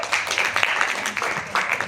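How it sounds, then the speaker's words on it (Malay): A short burst of audience clapping for a presenter at a leadership class, dense and moderately loud, fading after about two seconds with a voice mixed in. "Okey, satu tepukan untuk Diamond Noah."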